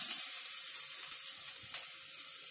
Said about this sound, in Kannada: ಈಗ ಬೆಳ್ಳುಳ್ಳಿ ಶುಂಠಿ ಪೇಸ್ಟ್ ಹಾಕ್ಕೋತೀನಿ